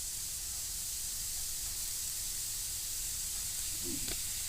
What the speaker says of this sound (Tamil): ஒரே ஒரு சின்ன துண்டு இஞ்சி போட்டு தக்காளி போட்டுடலாம்